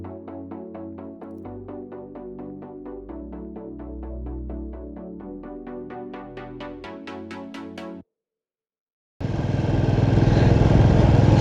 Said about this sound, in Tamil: இந்த பைக் வந்து BS4 Royal Enfield classic signal தான்.